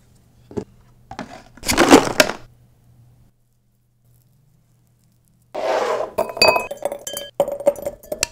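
Ice cubes crunch and clink up close in two loud bursts separated by a quiet pause, with sharp crackling and grinding.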